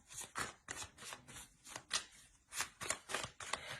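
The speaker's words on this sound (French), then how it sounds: "On va rajouter des cartes tout de même." Tarot cards shuffled by hand in a run of quick papery riffles and bursts, close and fairly quiet, with no talking.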